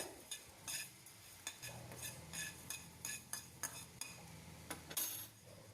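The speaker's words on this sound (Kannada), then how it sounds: "ಜೊತೆಗೆ 2 ಸ್ಪೂನಷ್ಟು ಧನಿಯಾನ ಹಾಕ್ಕೊಂಡು ಬಿಸಿ ಮಾಡ್ಕೊತಾ ಇದ್ದೀನಿ." Two spoonfuls of coriander seeds are dry-roasted in a pan for peanut chutney powder, a spoon scraping and rattling the seeds in quiet, irregular strokes, with no talking.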